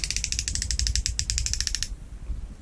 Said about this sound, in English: moving the brake all the way to the minimum amount of brake position